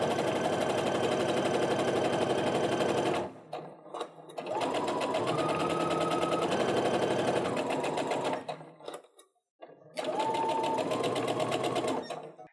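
A sewing machine runs loud and close while stitching a split nine patch quilt block seam, with three long steady whirring runs split by brief stops.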